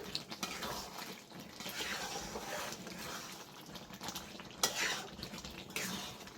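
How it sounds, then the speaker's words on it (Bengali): Chicken kosha with fresh coriander leaves being stirred in a pan, a steady close scraping and clinking of spoon against metal with soft frying underneath and a sharper knock near the end, no talking. "ধনেপাতা দিয়েও আমি নেড়ে নিচ্ছি ভালো করে"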